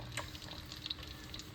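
Onions and garlic sizzle in a frying pan for a marinara sauce, a soft, steady hiss close by with a few brief crackles and stirring sounds, with no talking.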